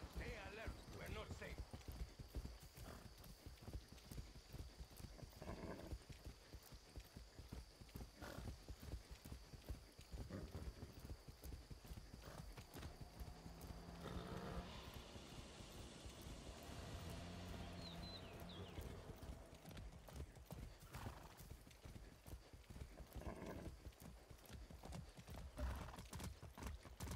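Horse hooves clip-clop steadily in the video game Far Cry 6, a continuous rhythmic trot heard alongside someone talking, with game music and ambience underneath.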